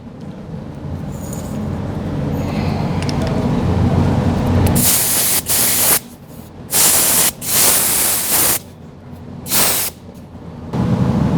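An air-supplied spray gun applies undercoating to a vehicle, producing loud hissing bursts of several seconds each, broken by short pauses, over a steady low compressor-like rumble.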